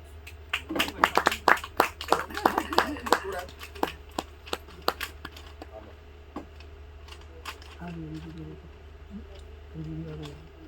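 Audience at a Hindi poetry recital breaking into scattered, fairly close claps for several seconds, thinning into isolated claps before fading, with a voice speaking briefly near the end.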